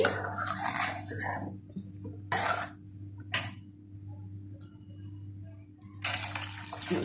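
Water poured into a pan of tamarind fish curry cooked with raw mango, in several short splashy bursts separated by pauses, over a steady low kitchen hum.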